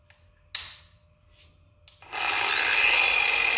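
A Torq BUF501X polisher starts up on the hazy roof of a JDM Subaru Forester and runs at about 2,000 RPM, a steady loud whirring buff after a few faint taps and scrapes.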